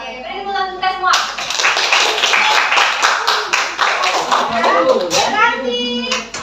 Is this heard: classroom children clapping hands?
yes